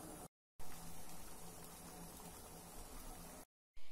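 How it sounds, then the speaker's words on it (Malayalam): Water heating in a pot for pickling hog plums makes a steady, soft bubbling hiss at close range, interrupted by two brief cuts to silence. "ഉപ്പിലിടാൻ ആവശ്യമായിട്ടുള്ള വെള്ളം തിളപ്പിച്ചെടുക്കുകയാണ്"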